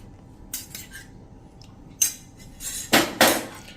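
A spoon clinks against a bowl and then scrapes through a thick paste as curd is mixed into a herbal hair remedy, with a few sharp taps followed by louder stirring strokes near the end.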